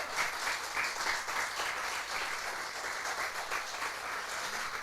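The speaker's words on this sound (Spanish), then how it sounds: "Denle un aplauso al Señor." Church congregation applauding together in a steady, continuous wash of clapping that fills the space evenly from start to finish, with no voices rising above it.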